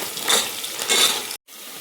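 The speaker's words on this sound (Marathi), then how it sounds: "मिरची कांदा उभे चिरून घेतलेले आहे, हे परतून घ्यायचं आहे थोडंसं मऊ होईपर्यंत।" Sliced chilies and onion sautéing in a pan for dal khichdi, a close steady sizzle with surges as a spatula stirs, cut by a brief silence before the frying resumes.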